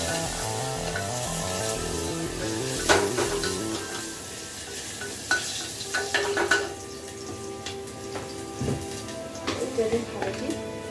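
Onion, panch phoron and bay leaf fry in a pan for dal, a steady sizzle running throughout with occasional clinks and stirring scrapes, while someone talks over it.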